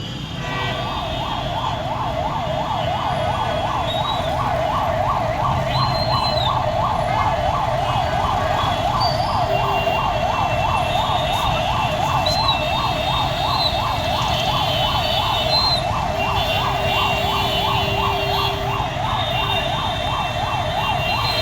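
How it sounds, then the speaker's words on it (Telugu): Fire engine sirens wailing at a blaze at the Mahindra showroom in Kondapur, a loud, continuous rapid warble, close by, with traffic rumble underneath and no talking. "ఘటనా స్థలానికి ఇప్పటికే ఫైర్ ఇంజన్లు చేరుకున్నాయి."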